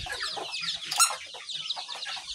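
A hen clucks in quick, busy bursts, close by, with one sharper squawk in the middle, in a small chicken coop.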